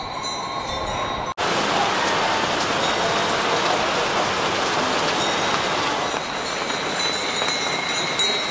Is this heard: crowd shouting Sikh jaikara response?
no